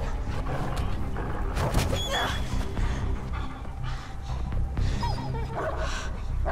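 A dog in the action game Beyond: Two Souls barks in short yips and whimpers several times, loud and close, over a dense game score and effects.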